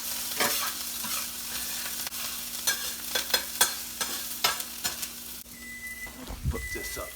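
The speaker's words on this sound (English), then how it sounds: "Let them saute a little bit." Onions and peppers sautéing in a pan for a chicken pesto and pepperoni pizza steak, a close, continuous sizzle broken by repeated sharp spatula scrapes and stirring clatters, ending with a few louder knocks.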